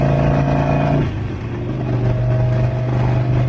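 A Harley-Davidson motorcycle on a test ride after fueling problems drones loudly with a steady engine tone that drops briefly as the rider shifts, then climbs and holds again, close and continuous.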